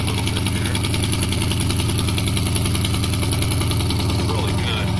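A 2015 Dodge Challenger R/T with Kooks long-tube headers and a Corsa exhaust idling after a cold start in snow, a loud, close, deep rumble with a steady rapid pulse throughout.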